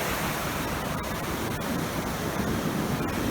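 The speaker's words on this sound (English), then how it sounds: "listen to the beautiful ocean sound" Steady ocean surf washing ashore at an island in Grand Theft Auto San Andreas, a continuous broadband rush with no pauses and no voices.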